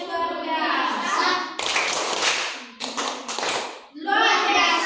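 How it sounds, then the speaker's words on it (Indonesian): Children perform the rhythmic 'tepuk luar biasa' clapping chant in a classroom, sharp group claps in bursts mixed with chanted young voices, loud and close, with brief pauses between clap sections. "Kita kasih tepuk luar biasa untuk kelompok visual"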